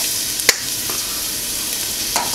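Small garlic cloves fry in hot oil with a steady, close hiss and sizzle, broken by a couple of brief clicks of a utensil stirring the pan.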